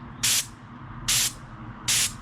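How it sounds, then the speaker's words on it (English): Air compressor spray gun misting ACF50 anti-corrosion fluid in three short, loud bursts of fine hissing spray, separated by brief pauses over a low background hum. "There's a really fine mist coming out."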